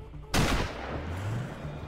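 A single sharp, loud rifle shot from the Sniper Ghost Warrior video game cracks out, then leaves a long, rumbling echo that fades slowly.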